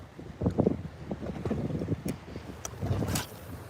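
Hurricane wind buffets a boat out on the water, rough gusting rumbles and flutters hitting the microphone in uneven bursts, close and loud, with no speech.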